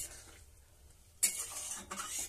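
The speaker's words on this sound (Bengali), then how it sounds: "খুন্তি দিয়ে নাড়াচাড়া করে নিচ্ছি" A spatula stirs soybean curry seasoned with cumin powder in a pan. A quiet stretch breaks into a sudden scraping, sizzling rush that settles into a second scrape shortly after.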